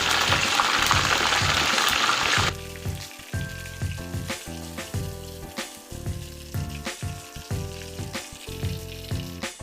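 Curry leaves sizzle in hot oil for tempering while making chevdo: a loud, dense burst of frying at first, then steadier crackling under repeated stirring and scraping in the pan, with no talk.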